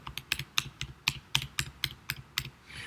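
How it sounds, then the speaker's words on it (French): Left arrow key on a computer keyboard pressed ten times, a run of sharp, close plastic clicks in a steady even rhythm with nothing else behind them. "moi j'utilise mon clavier, la flèche de gauche, 10 fois."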